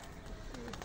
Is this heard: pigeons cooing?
yes